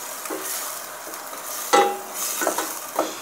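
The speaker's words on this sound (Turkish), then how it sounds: "Kıyma ile soğanımızı güzelce kavuracağız." Minced meat and onions fry in a pan while being stirred, a steady close sizzle broken by a few scraping stirs and light clinks of a utensil, with no voices.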